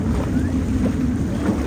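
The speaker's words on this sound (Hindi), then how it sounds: "ये देखो क्रूज़ आई है यहाँ पे" A cruise boat passes on an Amsterdam canal, heard from another tour boat as a steady low engine rumble and water wash, blended with wind buffeting the microphone.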